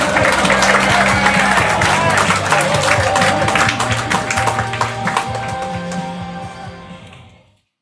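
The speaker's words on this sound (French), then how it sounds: "Je vous invite à faire un tonnerre d'applaudissements." A large audience breaks into applause and cheering, dense clapping that stays loud for several seconds and then fades out, with voices mixed in.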